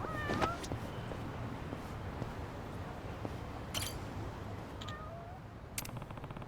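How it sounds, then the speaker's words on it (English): A cat meowing in the video game Yakuza 7: Like a Dragon: several short, faint meows scattered over a steady bed of game ambience and background noise. "Oh fuck, there's a cat."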